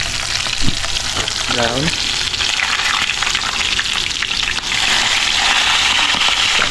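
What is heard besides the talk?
catfish frying in oil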